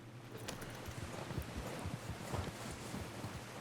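Horse walking outdoors during a deer hunting trip, hooves clip-clopping in a steady uneven rhythm under wind and rustling leaves, fairly faint.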